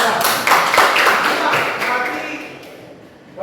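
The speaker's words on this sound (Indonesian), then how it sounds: "Oke, tepuk tangan semua." Students in a classroom clapping their hands together, a dense burst of applause that fades out over a few seconds with some voices mixed in.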